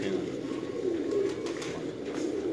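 Pigeon of a breeder's Sialkot breed, company number 41, cooing in a low continuous rolling murmur, close up, with someone talking faintly over it.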